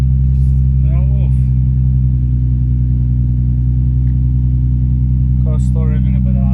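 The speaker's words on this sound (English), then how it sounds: "Car's still revving a bit high." A Nissan 350Z idling a bit high after an accelerator pedal sensor replacement, a steady droning engine hum with a constant tone throughout, while a person speaks briefly over it.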